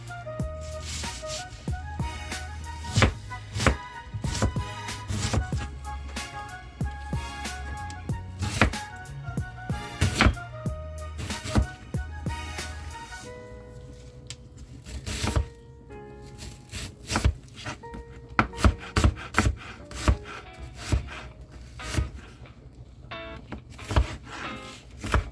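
A knife chops through a whole onion on a cutting board in sharp, close, irregular strikes, dense bursts of quick taps broken by short pauses, with no one talking.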